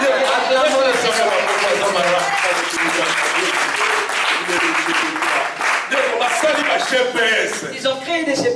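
A church congregation claps and cheers for the Lord, a dense, steady wash of applause and crowd voices filling the space throughout, with scattered chatter and laughter mixed in.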